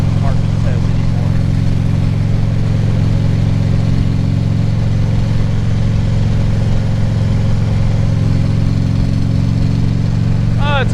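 A vehicle engine droning on the road, loud and steady, with a low hum and constant wind rumble the whole time.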